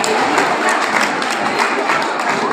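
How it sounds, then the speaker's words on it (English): An audience applauds at a school event, a dense, steady patter of many hands clapping at moderate distance for a few seconds. "give a very big round of applause for our correspondent Sir"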